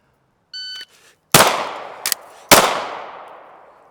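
Gunshots ring out during pistol handling practice: a shot timer beep, then a loud close report, a brief metallic reload clatter, and a second sharp shot trailing off in echo.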